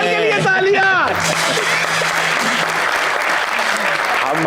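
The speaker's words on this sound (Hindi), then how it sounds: "अंकल के लिए तालियां।" Audience applause breaks out after a brief burst of speech and laughter, dense steady clapping filling the room for several seconds at close, loud level.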